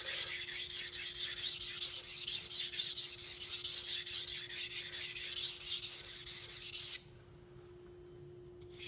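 Knife blade stroked back and forth across a whetstone, rhythmic scraping passes about twice a second, close and clear, then stopping abruptly into near silence.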